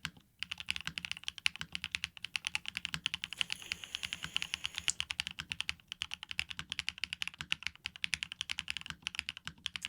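A large, fairly high-pitched mechanical keyboard being typed on steadily, dense, close-up clacking keystrokes in a continuous run with only brief gaps, no voices present.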